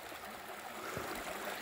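A river runs over small stones in the Apurímac highlands with a steady, faint rushing and trickling, with no voices over it.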